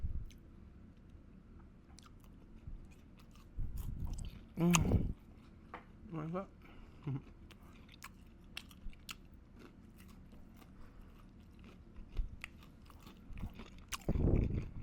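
Close-miked crunching of frozen orange chicken pieces, a few short bursts of chewing spaced between stretches of talk, with faint clicks and mouth noises in between.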